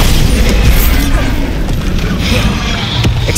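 Heavy, sustained rumbling blast of the Bombarda explosion spell in Hogwarts Legacy, loud and dense throughout with low booming debris noise.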